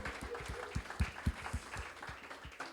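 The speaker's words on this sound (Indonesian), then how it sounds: "Sekali lagi berikan tepuk tangan yang paling meriah" A church congregation at a worship service in Kota Wisata applauds with a steady patter of claps that swells in a few louder bursts, heard alone without talk.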